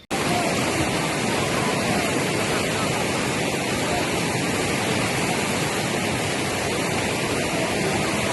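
A rural river stream in tribal Khalapur, Raigad, that children must wade through to reach school rushes steadily and loudly, a dense unbroken wash of flowing water throughout.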